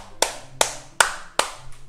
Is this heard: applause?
yes